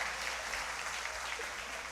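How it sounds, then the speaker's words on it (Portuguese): A church congregation applauds, a brief burst of dense clapping that rises, then settles into a steady wash at moderate distance. "Aplaudam ao Senhor"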